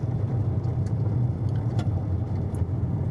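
Low rumbling engine of a 2012 Nissan Maxima SV moving slowly at about 25 mph, steady and close, with a few faint clicks over the drone.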